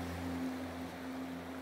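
Ocean waves wash in a steady, gentle surf hiss for a sleep story, soft and continuous with a faint low tonal hum beneath and no voices.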